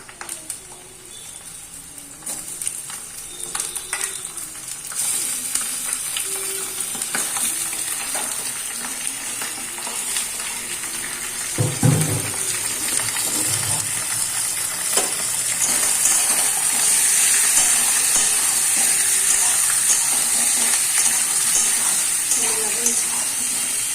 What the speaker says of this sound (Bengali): নবল পেঁয়াজটা ভাজা হয়ে গেছে, আমি মাংসগুলো ছেড়ে দেবো।